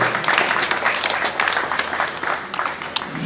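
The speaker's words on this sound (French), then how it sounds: "Applaudissons encore, s'il vous plaît, très fortement." Steady, dense applause from an audience at a university building inauguration, continuing evenly for a few seconds with no pauses.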